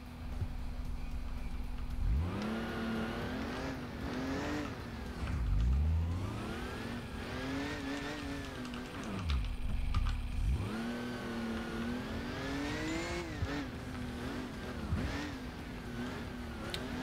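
Car engine in the racing game Crash Time 2, revving and shifting repeatedly as the car accelerates, with rising and falling pitch sweeps and a steady loud drone throughout.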